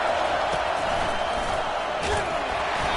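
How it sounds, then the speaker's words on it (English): A football stadium crowd at a USC versus FSU game roars in a dense, continuous wall of noise, with faint thumps and whoops rising out of it and speech mixed in. "this crowd is turning it up a notch"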